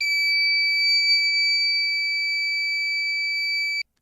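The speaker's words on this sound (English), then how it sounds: "So the blue light will turn on and the buzzer will turn on too." Electronic buzzer on a homemade temperature and humidity detection device sounds one continuous, piercing high-pitched tone for nearly four seconds, then cuts off abruptly, with no talking.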